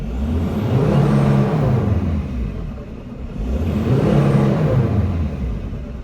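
A turbocharged car accelerates after a boost fault repair, its engine rising in two broad revving surges with a steady mid-pitched whir and rumble, fairly loud and close, with no talking.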